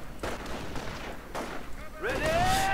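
Gunfire and grenade blasts from a WWII strategy video game, with a few thumping explosions and shots followed by a rising whine and rumble, under a commentator's voice.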